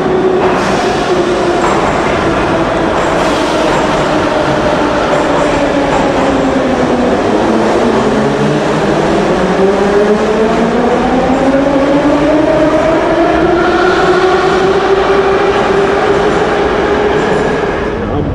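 Metro train at Koroglu station in Baku, a loud, steady rumble and rush of a railcar with rising and falling motor whine throughout, with no talking.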